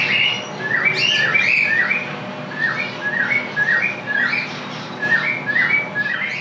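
Pet cockatiels chirp and whistle repeatedly while feeding on soaked, boiled soft food, with bright, close bird calls in short bursts throughout and no talking.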